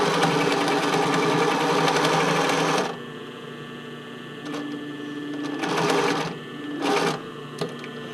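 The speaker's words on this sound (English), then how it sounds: "So I'm going to start sewing at the top and go to the bottom." A sewing machine stitches a bra fitting band in a steady, close whirring run of about three seconds. Several shorter bursts of stitching follow, separated by quieter pauses.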